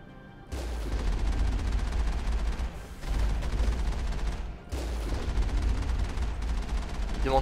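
Gunfire in Mass Effect comes in sustained loud bursts of rapid shots that stop briefly, then start again, with a short gap before the last burst.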